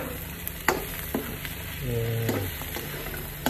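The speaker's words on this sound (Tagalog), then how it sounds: "Tapos, haluluin natin." Tofu frying in a pan is stirred with a utensil, giving steady sizzling with a few sharp scrapes and clacks over a few seconds, while a voice speaks briefly at the start.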